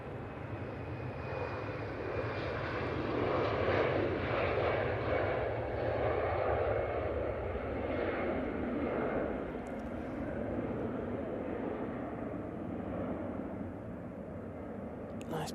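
A KLM airliner in Yes to Europe livery taxis past the runway viewing park at Manchester Airport before departure, a loud, steady jet engine roar that holds throughout with a thin whine riding on top.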